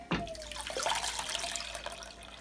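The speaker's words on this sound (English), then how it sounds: "I'm gonna use the big strainer now, and then after I'm gonna use the small strainer to strain it off again." Jamaican sorrel drink, steeped with ginger, cinnamon stick, pimento and lemon skin, is poured through a big strainer, giving a steady, close splashing pour of liquid that runs on without a break and has no talk over it.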